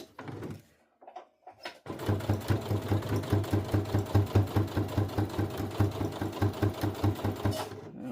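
A Brother CS7000X sewing machine stitching quilting cotton: after a few brief handling knocks, a fast, even, rhythmic mechanical chatter runs steadily up close for the rest of the time.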